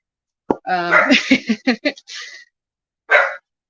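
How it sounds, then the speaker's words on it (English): A dog barks several times in quick succession, then one more bark after a short pause, fairly close and loud. "now the dog's barking."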